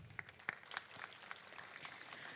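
Applause at a class of 2023 graduation ceremony, a quiet spread of scattered claps building into steady clapping that continues throughout.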